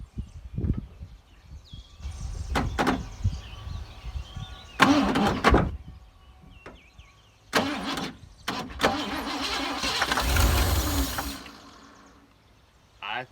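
A 1986 Ford F-150 truck that sat unused for twenty years cranks and fights to start, with bursts of engine noise between pauses, then settles into a rough running rumble before fading; no talk over it.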